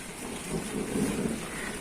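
Summer downpour in a garden, dense steady hiss of heavy rain falling on plants and ground, close and continuous with no voices.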